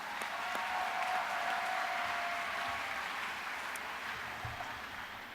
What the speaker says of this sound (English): Let's give one more round of applause to all of our CDE winners.